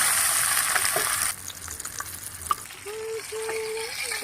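Fish frying in hot oil, a steady loud sizzle that drops partway through to a softer crackle with small pops and a few stirring sounds, close up, no talking.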